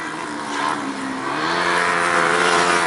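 Junior solo race cars lapping Rosebank Speedway, engines rising in a rough, revving roar as they pass, with a faint tire squeal in the mix.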